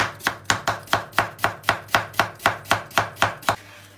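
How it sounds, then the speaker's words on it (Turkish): A knife chops onions steadily on a board, about fourteen crisp, evenly spaced strokes, close and loud, with no talking. "İnce olacak şekilde küçük olacak şekilde yemeklik doğruyorum"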